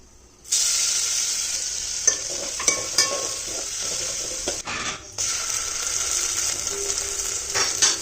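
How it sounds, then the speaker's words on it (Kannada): Mustard seeds, curry leaves and crushed garlic sizzle loudly in groundnut oil as a tempering, a sudden strong hiss that starts after a brief quiet moment and keeps crackling with occasional stirring clinks. "2ರಿಂದ 3 ಟೀ ಸ್ಪೂನು ಒಳ್ಳೆಣ್ಣೆ ಹಾಕ್ಕೊಂಡು 1 ಟೀ ಸ್ಪೂನು ಸಾಸಿವೆನ ಸಿಡಿಸ್ಕೊತಾ ಇದ್ದೀನಿ"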